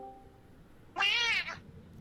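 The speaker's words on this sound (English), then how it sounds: "You just watch as a random cat runs by and makes a noise." A single cat in an Elder Scrolls video game lets out one short, clear meow that rises and falls, alone against a quiet background.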